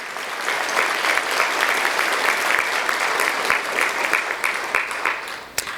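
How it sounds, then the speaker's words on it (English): Audience applause for partners and sponsors at a Montana history event, steady and sustained clapping from a sizable crowd for several seconds, fairly loud, without talk over it. "Please give a round of applause for our many partners and sponsors."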